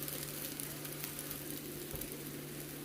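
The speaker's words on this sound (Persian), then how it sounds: "حرارت گاز متوسط میدیم که فلافل های خوب صحیح پخته شد" Falafel frying in a pan over medium gas heat, giving a dense, steady sizzle and crackle that stays even and fairly quiet throughout, with no voices.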